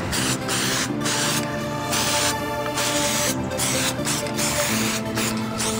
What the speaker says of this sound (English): Next up, we'll show you how to apply the primer coat.